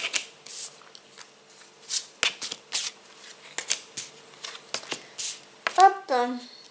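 Tarot cards being shuffled for a reading, a run of crisp riffling and tapping bursts close up, with a brief voiced sound near the end.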